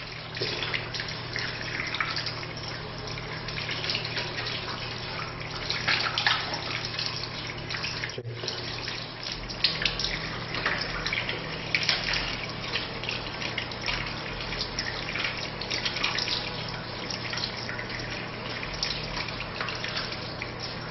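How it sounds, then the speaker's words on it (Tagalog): Tap water runs steadily from a faucet while hands are washed for Islamic ablution (wudu), a close, continuous splashing stream with no talking. "Hugasan ang dalawang kamay simula dulo ng daliri hanggang sa siko ng 3 beses."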